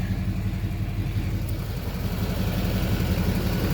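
A steady, low exhaust rumble from a lifted 2006 Chevy Silverado 2500 LBZ Duramax diesel pickup with a muffler delete idles close by, deep and continuous with no voices.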